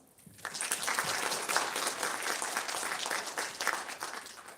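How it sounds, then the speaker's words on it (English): An audience at an annual awards ceremony breaks into sustained applause after a pre-event performance, rising quickly and holding steady at moderate loudness. "can we one more time give them an amazing round of applause?"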